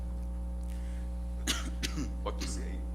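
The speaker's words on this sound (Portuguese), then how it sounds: "Tosse à vontade." A single cough rings out in a Brazilian Senate committee hearing room, a brief throaty burst followed by a second smaller one over a constant electrical hum, alone without talk.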